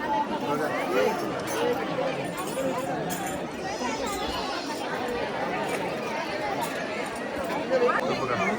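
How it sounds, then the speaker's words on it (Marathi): Dense crowd chatter fills the grounds of Jotiba temple, a steady babble of many voices near and far with occasional footsteps, holding at an even level throughout. "तर प्रचंड गर्दी आहे गाईस. फुल गर्दी आहे, फुल गर्दी आहे."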